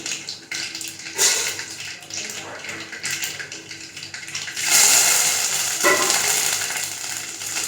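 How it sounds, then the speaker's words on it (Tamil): Mustard seeds splutter and pop in hot oil in a pan while an aloo methi dish is cooked, a close crackling sizzle that swells in louder bursts. "கடுகு நல்லா பொரியுது"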